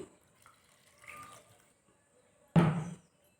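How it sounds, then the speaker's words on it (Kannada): Water is poured onto a potted betel leaf plant, a short close splash near the end after a few faint trickles, with quiet in between. "ನಾವು ಇನ್ನು ಸ್ವಲ್ಪ ನೀರು ಹಾಕ್ತೀವಿ"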